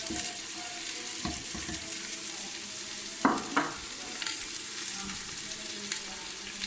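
Steady sizzling of chicken frying in a pan with tomato, garlic-ginger paste and spices, occasional stirring scrapes and clinks, close by and continuous, no voices.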